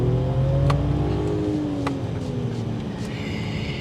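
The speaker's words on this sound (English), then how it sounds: "It just takes off." A 2023 Mercedes-Benz S500 4Matic in Sport Plus mode accelerates hard, its engine note climbing steadily in pitch as it pulls away, a smooth continuous hum heard from inside the car.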